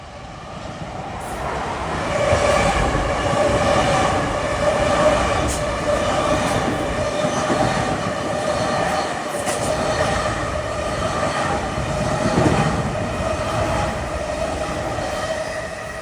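An eastbound Long Island Rail Road Port Washington Branch train rolls past at Little Neck without sounding its horn, a steady loud rumble of wheels and cars with faint squeals, heard alone close by.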